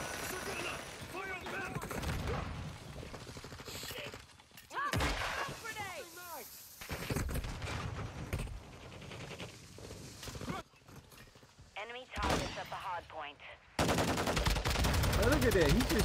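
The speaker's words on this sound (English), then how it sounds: "He's just shooting through walls." Gunfire from Call of Duty Modern Warfare II hardpoint multiplayer, with repeated bursts and single shots cracking through a dense, busy mix alongside talk, some volleys louder and closer than others.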